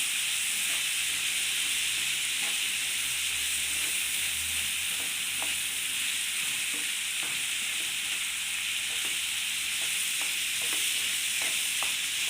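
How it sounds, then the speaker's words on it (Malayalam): Bitter gourd pieces fry in plenty of oil for a pickle, a constant hissing sizzle with frequent light scraping stirs of a spoon against the pan, and no voices. "നന്നായിട്ടൊന്ന് ഇളക്കി കൊടുക്കാം നമ്മുടെ പാവയ്ക്ക"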